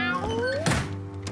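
A cartoon cat gives a short, upward-sliding meow in an animated children's series, followed by a dull thunk and a brief tail of background noise; a human voice may be imitating the cat.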